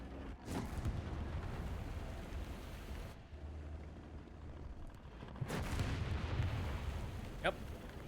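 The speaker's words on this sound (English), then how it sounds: "Someone's firing placebo artillery at me." Distant artillery fire in the World War I tank video game Landships, with muffled booming blasts rolling over a continuous rumbling battlefield background.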